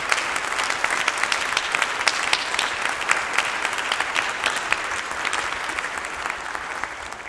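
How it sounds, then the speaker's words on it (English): A concert audience breaks into dense, sustained applause for the St. Charles County Youth Orchestra, the clapping steady and close throughout. "I just want to give them another applause for their efforts"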